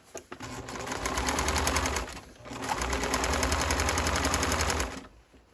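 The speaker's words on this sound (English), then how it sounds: "Okay, and I'm going to backstitch. And continue." Sewing machine backstitching a tote bag seam, two fast rattling bursts of stitching, close and moderately loud, separated by a short pause where the direction reverses.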